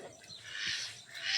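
Ducks calling in a rural Sundarban yard, a few short nasal quacks heard fairly faint and a little distant, separated by brief pauses, with no talking over them.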